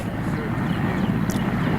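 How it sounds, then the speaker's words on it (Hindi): A Russian attack helicopter armed with air-to-surface missiles flies low during an assault in Ukraine, its rotor and engine making a steady, loud, continuous drone throughout. "इस वीडियो को एक रशिया के अटैकिंग हेलीकॉप्टर से शूट किया गया है"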